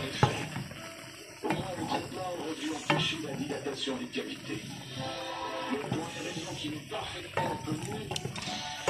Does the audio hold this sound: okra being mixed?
yes